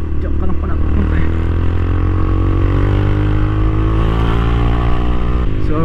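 A Motorstar GPR250 Xplorer motorcycle engine drones steadily at wide-open throttle, its pitch climbing slowly as it revs, loud and close throughout with a short drop near the end as the gear shifts.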